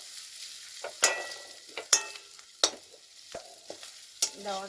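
Chicken curry with broccoli and ginger paste frying in a pan, soft sizzling beneath repeated sharp scrapes and clinks of a spatula being stirred, close and irregular, with no talking.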